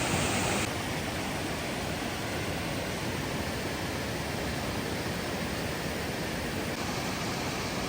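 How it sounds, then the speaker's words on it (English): Adams Falls tumbling through a rocky gorge in Rocky Mountain National Park, a steady broadband roar of rushing water, dense and unbroken throughout, with no voices. "Really cool gorge here with the waterfall."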